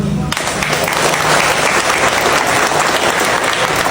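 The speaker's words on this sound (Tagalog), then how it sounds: "Kaya you deserve a palakpak" Loud applause breaks out for the mayors at a provincial government gathering, a dense sustained roar of many clapping hands that starts abruptly and holds steady throughout.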